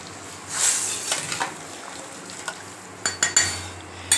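A spoon scrapes and clinks against a pan of garlic curry with jaggery in a few irregular strokes, with a soft sizzle underneath and no talking.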